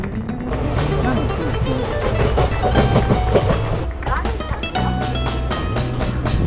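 Inside a crowded general-class carriage of an express train in motion, a continuous loud rumble with rhythmic rail clatter and indistinct passenger voices mixed in.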